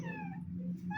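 Domestic cat meows close by in two drawn-out, tonal cries separated by a short pause, clear over a faint low background hum.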